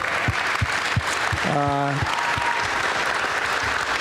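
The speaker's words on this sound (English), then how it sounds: "Is that worth a round of applause?" A crowd applauds steadily at a Golden State Warriors event unveiling Chinese New Year uniforms, with a short tonal sound cutting through the middle of the constant clapping.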